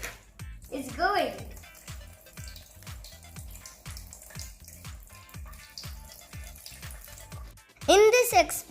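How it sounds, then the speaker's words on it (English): Water is poured into a jar for a simple kids' oil-and-water experiment, a steady trickling splash under a rhythmic low thumping, with sharper sweeping bursts at the start and end. "I poured some water in the jar"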